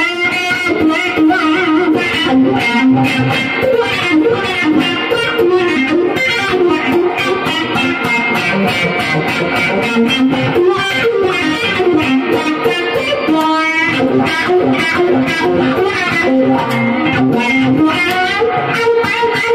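Electric guitar played through a 1969 Vox wah pedal with no reverb, a continuous run of distorted notes with the wah sweeping up and down, loud and up close.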